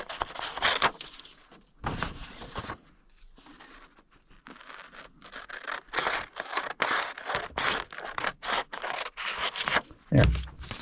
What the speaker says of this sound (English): First of all, we'll cut out our pattern here.